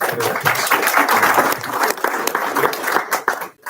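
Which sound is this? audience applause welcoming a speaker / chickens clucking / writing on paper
audience applause welcoming a speaker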